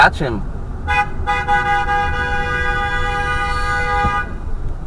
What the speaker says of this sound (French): Il klaxonne comme un dingue.